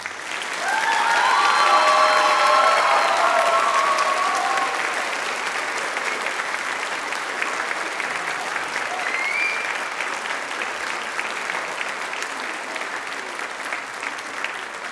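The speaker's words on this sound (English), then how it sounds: "So one more applause." Sustained audience applause fills a high school band concert hall, loudest early and then holding steady, with brief voices or cheers rising over the clapping.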